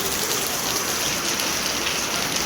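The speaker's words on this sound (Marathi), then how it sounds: "पाऊस आला पाऊस" Steady, dense hiss of rain pouring down, continuous and even throughout with no voices.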